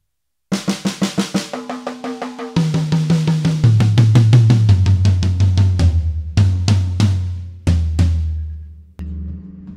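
Slow drum fill from a solo on snare and toms, struck in even groups of six that step down in pitch from snare through the toms, loud and close with no talking.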